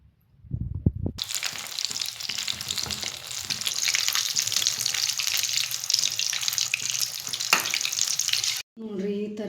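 Battered potato bonda sizzles steadily in hot oil, a dense, loud crackling hiss that begins abruptly and holds for about seven seconds before cutting off.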